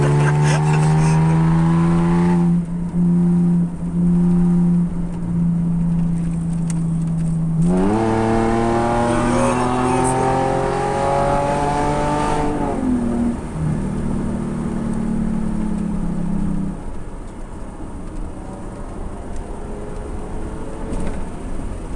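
A 1.6 petrol car engine revving with its exhaust flap open, holding steady tones that climb and fall between revs and running loud throughout. Two people talk over the engine.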